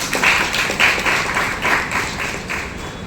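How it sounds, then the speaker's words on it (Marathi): A live audience claps together in a steady, dense patter of applause that keeps going at even loudness, rising slightly in a few bursts. "यासाठी तुम्ही टाळ्या तर वाजवलीच पाहिजे."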